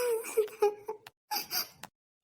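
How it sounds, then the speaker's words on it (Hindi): A woman cries in an animated Hindi family drama, a series of short wailing, sobbing bursts with a brief pause midway, close and alone without talk. "अरे बहू की रोने की आवाज।"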